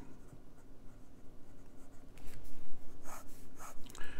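A Eureka PEEK fountain pen with a size 6 Bock steel medium nib scratches across paper in faint, steady strokes, becoming louder and more textured in the second half with brief scritches of feedback.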